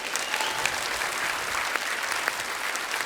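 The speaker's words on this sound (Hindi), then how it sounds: "एक बार जोरदार तालियां हमारे मेहमानों के लिए." Studio audience on a comedy talk show bursts into loud, steady applause for visiting cricketers Brett Lee and Chris Gayle, continuous clapping throughout with no talk.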